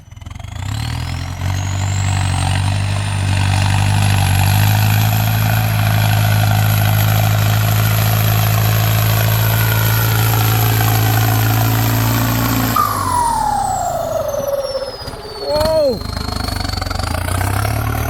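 A 6640 tractor's heavy diesel engine, fitted with an HX40 turbo, drones loudly and steadily with a high turbo whine rising above it while pushing wet dirt, then the pitch drops and the engine revs and lurches near the end.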